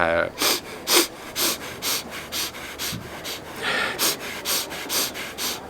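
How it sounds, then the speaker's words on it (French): Rhythmic, intense breathing exercise during a meditation session at a large meditation hall in Kanha, with regular sharp, forceful breaths repeating about every half second, close and fairly loud. "Il y a eu d'autres exercices de respiration assez intenses"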